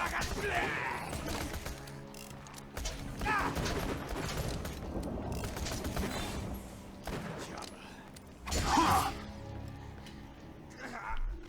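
Pistol shots in Borderlands 2 pop out in a few separate bursts, with the loudest near the end, set against a busy game backdrop and steady talking.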